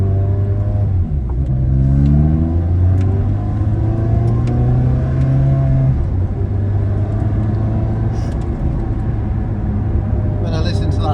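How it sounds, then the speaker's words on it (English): A Ferrari accelerating hard on the road, its engine and exhaust note rising through the revs as a loud, steady roar that climbs and shifts pitch, with people talking over it inside the car. "When I listen to that exhaust note, I'm happy to burn the fuel."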